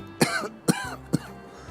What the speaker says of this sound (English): it's a dry cough